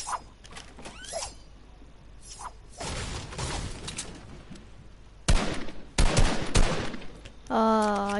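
Gunfire in the video game Fortnite: several loud, sharp bursts of shots spaced across the clip, heavier toward the end, over quieter game sounds and brief voice-like tones.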